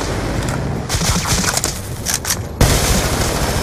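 In a Call of Duty Black Ops 2 battle, gunfire rattles in rapid bursts against enemy ASDs with dense, loud, continuous crackling and impacts, then a sharp jolt of heavier fire.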